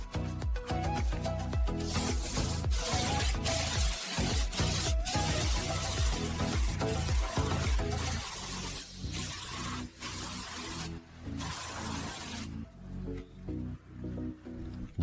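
Spray gun priming and painting the internal cavities of a cheap welded metal driveway gate beam, a loud continuous hiss broken by short pauses and bursts, close and steady, alone without talk.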